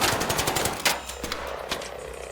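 Rapid automatic gunfire in the video game ARC Raiders, a fast burst of sharp repeated shots followed by a few isolated louder cracks, close and loud.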